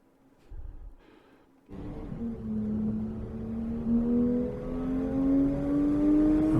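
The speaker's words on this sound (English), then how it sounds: "Let's see the engine sounds and see how quickly you start applying throttle" Car engine on the Spring Mountain circuit, quiet at first, then swelling at once into a rising, droning acceleration as the throttle goes to full, pitch climbing steadily to the end.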